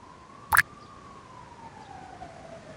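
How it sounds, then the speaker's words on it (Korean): A faint, steady siren tone drifts slowly downward in the distance near a stream where locals gather river snails, broken near the start by a brief sharp burst of noise. "지금 제 생각에는 다슬기 잡지 말라고 사이렌을 울리는 것 같아요"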